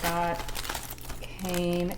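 A small packet crinkles as it is handled, with a few sharp plastic rustles bursting through steady background music and tonal sounds, near and moderately loud throughout.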